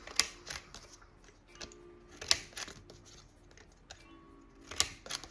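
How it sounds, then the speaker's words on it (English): Scissors snip the corners off a paper Magic: The Gathering proxy card, with several sharp, close clicks and cuts spaced irregularly across a quiet room. "And then I will cut the rest of the corners."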